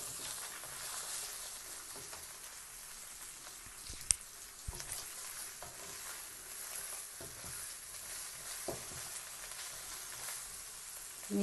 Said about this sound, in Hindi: सबसे पहले हम इसमें गाजर ऐड करते हैं, इसको हम अच्छी तरह से मिक्स कर लें।